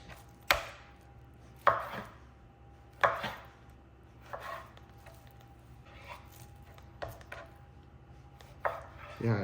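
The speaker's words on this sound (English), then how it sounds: "I'm probably gonna cut that piece about 2 inches" A sharp knife cuts meat into chunks for pinchos on a board, each stroke landing as a distinct close thunk, roughly eight cuts spaced about a second or more apart, with no talking.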